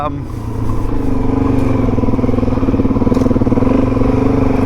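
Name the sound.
adventure motorcycle being ridden off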